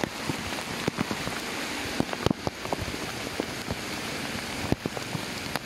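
Heavy typhoon rain pouring steadily onto surfaces in a flooded street, a dense hiss with scattered sharp drops and splashes, heard up close with some wind.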